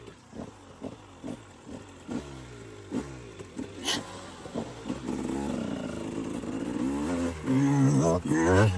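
KTM 125 motorcycle set up as a supermoto, ridden on an enduro trail: a nearby two-stroke engine blips and revs in short bursts, then holds a rising, sustained drone, with strong wind buffeting.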